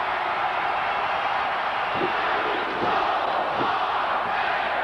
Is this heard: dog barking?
no